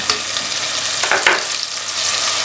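Onions softened to golden brown sizzle steadily in hot oil as a couple of teaspoons of ginger garlic paste go in, with a brief louder crackle and stirring scrape midway, no voices.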